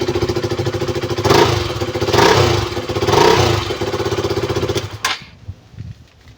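A KTM Duke 200 motorcycle engine idles after starting up following a fuel pump replacement, a loud, close, rapid single-cylinder chug with a few swelling revs before it cuts off abruptly, leaving quieter clatter.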